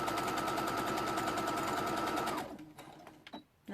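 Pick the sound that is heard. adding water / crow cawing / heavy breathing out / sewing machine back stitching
sewing machine back stitching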